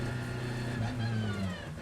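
A Ferrari 488 GT3 race car enters the pit lane on its speed limiter, the engine holding a steady, droning tone with slight wavering pitch, heard from onboard over wind and cockpit noise.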